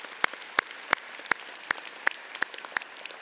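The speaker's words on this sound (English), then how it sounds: "So join me in giving them a round of applause" Sparse clapping at a University of Saskatchewan fall convocation ceremony: about eight crisp, evenly spaced claps from what sounds like a single nearby clapper, over a quiet background.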